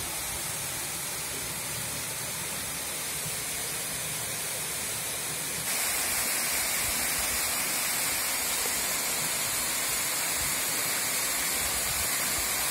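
Water rushes at the old Fonte Grande dam in Hidrolândia, Bahia, a loud, unbroken roar like a waterfall that grows slightly brighter and stronger partway through, with no voices.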